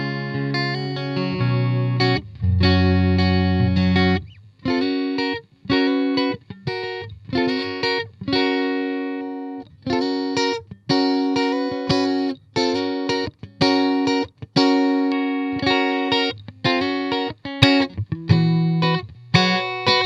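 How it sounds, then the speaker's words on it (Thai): A Squier Standard electric guitar with a chorus-like effect plays a steady run of chords and picked notes across pickup positions from neck to bridge, repeated in short phrases with brief gaps, loud and upfront. "ต่อไปผมจะลองเล่นรวมๆ หลายๆ สวิตให้ฟังแล้วกันนะครับ ไล่ไปจาก ตัวเน็กไปเป็นตัวบิดนะครับ"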